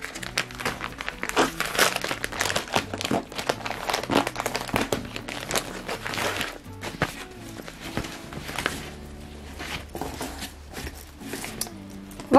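A plastic package holding a two-pack of sweaters is torn and pulled open, with dense crinkling and rustling bursts and handling noises over about twelve seconds, close and moderately loud, with no talk.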